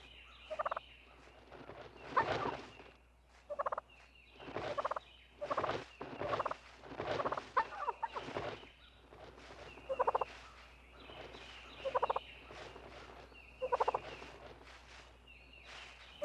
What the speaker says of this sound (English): Invited with purring sounds, the dominant tom struts closer.